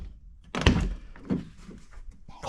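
A newly fitted truck door is swung shut during a restoration. A solid metallic thunk lands up close, followed by a softer second knock and faint rattles, with no voices.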